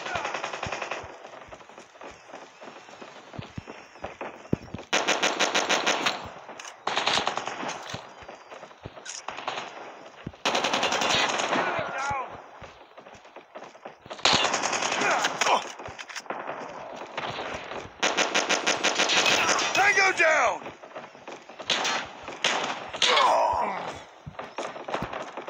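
Gunfire from the mobile shooter game Call of Duty Mobile comes in loud sustained automatic bursts with short pauses between them, alongside other game effects.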